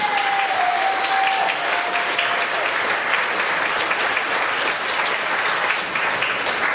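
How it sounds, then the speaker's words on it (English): Audience at a live storytelling stage show applauding, a thick continuous roar of many hands clapping at steady loudness throughout, with a brief cheer or whistle early on. "Put your hands together and clap as loud as you can until Faye Lane gets up here."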